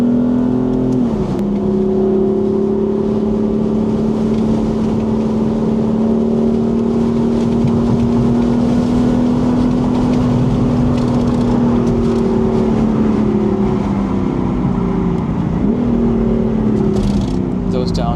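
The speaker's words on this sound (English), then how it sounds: "Those downshifts, so good." A 2018 BMW M4 engine droning steadily close by, its pitch dipping and rising as it downshifts, with a sharp blip near the start and another near the end, loud and continuous throughout.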